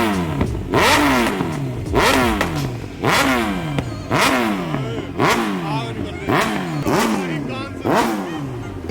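A loud superbike engine revs hard in repeated rising bursts roughly once a second, each sweep climbing then dropping back, close and dominant with people talking underneath.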